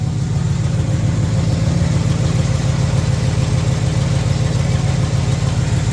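A 1971 Oldsmobile Cutlass engine running steadily at idle, close and loud with a constant rumbling throb and no change in pace, and no one talking.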